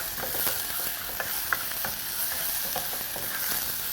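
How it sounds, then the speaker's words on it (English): Onions sweat in a pan for a carrot coconut stew, a steady close sizzle broken by scattered utensil clicks and scrapes as they are stirred, with no talking. "Right, so now your onions are beautifully sweated out."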